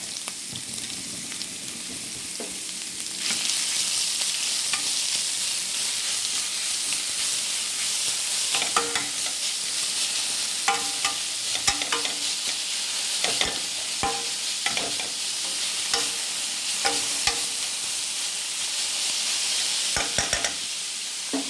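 Onions sizzle and fry steadily in a pan until golden, ahead of cabbage going in, with a continuous hiss broken by occasional scraping stirs and clinks, close and fairly loud throughout with no talking.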